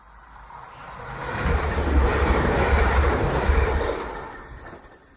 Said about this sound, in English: The last train to Hull slams past the window